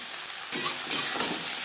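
Flat beans drop into a pan of fried onions, setting off a few soft bursts of sizzling and hissing over a quiet background.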